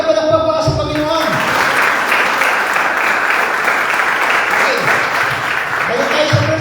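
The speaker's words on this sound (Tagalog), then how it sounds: "Yung malakas na palakpak para sa Panginoon." Loud, sustained applause from a church congregation clapping in praise of the Lord during a Filipino worship service, a dense continuous roar of hands with voices mixed in near the start and end.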